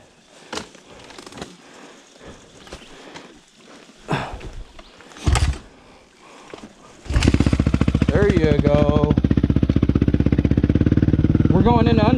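Heavy dirt bike engine revving loud and close during a ride, a steady throbbing roar with rising throttle sweeps after earlier scuffs, clicks and talk.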